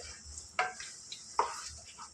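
Paneer gongura curry stirred in a pan with a spoon, giving two soft scraping clinks about a second apart over a faint low sizzle.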